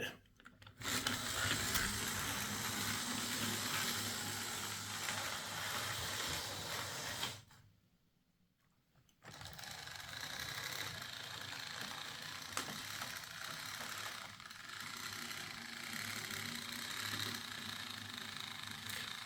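Hornby Class 2P model locomotive running under power with a pickup fault, giving a steady mechanical whirr and gear rattle that cuts out briefly midway, then resumes; fairly quiet and without talk.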